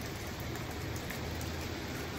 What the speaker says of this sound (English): There was like horizontal rain going sideways across over there.